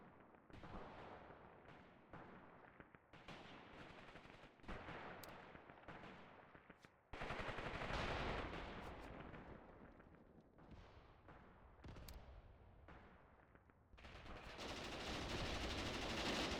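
Machine-gun fire in the war video game Mius Front comes in rapid bursts that swell into loud, sustained stretches of gunfire, with no talk.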